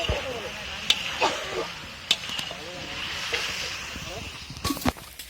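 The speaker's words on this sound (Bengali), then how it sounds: "এখানে মাছ ভাজা হচ্ছে।" Fish fries in a pan at an outdoor picnic cookout, giving a steady, close sizzle with a few sharp clinks and spatters, while voices murmur faintly in the background.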